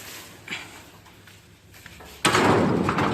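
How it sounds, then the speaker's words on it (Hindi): A truck's rear cargo door slams shut partway through, one loud burst after a quieter stretch with a light knock earlier, heard close by at a loading stop. "ये दूसरा भी बंद करते हैं।"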